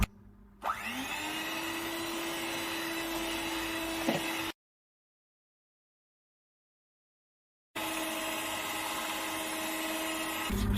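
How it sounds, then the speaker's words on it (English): An electric hand mixer whirs steadily through red velvet cake batter, starting up after a short pause, running for a few seconds, cutting out to silence, then resuming at the same even pitch. "I'm going to go in with my hand mixer and mix well again for at least 2 minutes."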